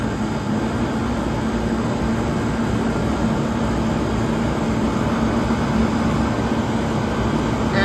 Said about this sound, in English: The condenser fan is running nice and smooth.